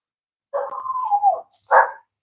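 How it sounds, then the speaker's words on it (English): A single dog barks: a drawn-out, wavering bark followed after a brief pause by a short sharp one, fairly close and clear with no talking. "He's over here barking still."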